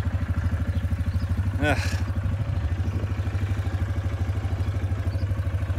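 A Yamaha Grizzly 450 ATV with crash damage idles and runs in a steady low pulsing throb, close and loud, with a short voiced grunt partway through.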